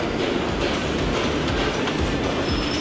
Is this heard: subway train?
yes